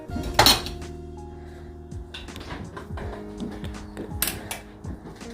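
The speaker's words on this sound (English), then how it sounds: "Now we're straining the rice" Cooked rice is strained with a metal pot and strainer, giving a sharp clatter near the start, then scattered light clinks and scrapes of cookware close by.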